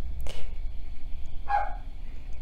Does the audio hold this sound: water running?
no